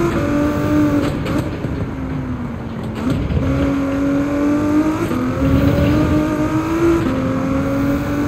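A race car engine in Gran Turismo 7 holds a steady, loud drone with small pitch dips and rises as the throttle is eased on and off through a turn, continuous and close, with no talking.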